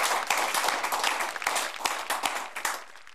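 Audience applause welcoming the poet Albela Khatri onstage, a steady wash of many hands clapping at moderate distance, fading slightly toward the end.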